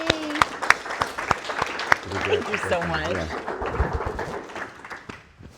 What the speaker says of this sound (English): Let's give a round of applause for Kalie.